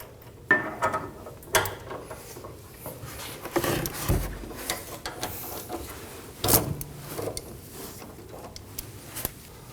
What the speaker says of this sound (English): To remove the inner tie rod, we'll be using an inner tie rod tool.